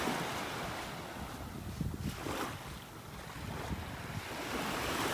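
Ocean waves wash onto a quiet beach in North Naples, Florida, a steady broadband roar of surf with wind buffeting the microphone, moderately loud and unbroken, no voices.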